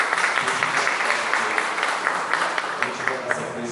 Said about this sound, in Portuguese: Uns aplausos aí para o Rodrigo.